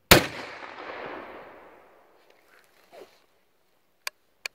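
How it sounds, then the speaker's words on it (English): A single rifle shot firing a .32 H&R Magnum cartridge outdoors, a sharp crack followed by a long rolling echo that fades over about two seconds, then faint rustles and two brief clicks. "I'll even put one of the 32 Magnums, 32 Holland and Richard Magnums downrange"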